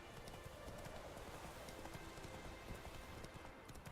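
Roach, the horse in The Witcher 3, gallops with a steady run of quick hoofbeats, the clip-clop close and continuous over a dense rain-like wash of game ambience.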